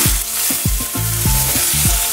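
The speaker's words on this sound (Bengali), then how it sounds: "রাঁধুনিটা দিয়ে আমি টুকরো করা আলুগুলো দিয়ে দিচ্ছি তেলের ওপর।" Potato pieces fry in hot oil seasoned with radhuni seeds, giving a loud, close sizzle. Regular scraping stir strokes come roughly every quarter second over a steady oily hiss.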